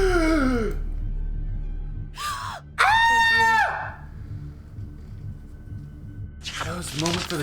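A short voiced scream in the video game What Remains of Edith Finch, a loud wavering cry close to the listener, followed by murmuring and a brief cry at the end over a low steady hum.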